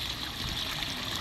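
Artesian spring water pours and splashes steadily outdoors, a dense, even rush that fills the whole moment without pause, close and fairly loud, with no voices.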